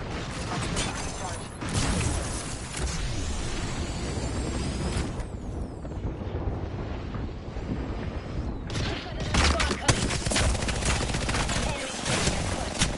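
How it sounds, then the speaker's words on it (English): Apex Legends gunfire rattles in dense bursts with clanking weapon mechanisms and sweeping whooshes, loud and close, a near-continuous battle din with voices cutting in. "Opening fire on our prey."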